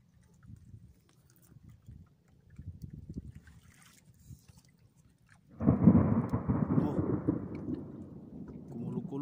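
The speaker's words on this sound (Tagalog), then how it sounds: "Kumulog-kulog na" Thunder rumbles and heavy rain suddenly pours down at sea on a small fishing boat, preceded by low engine-like rumble and faint talk, the downpour loud and continuous.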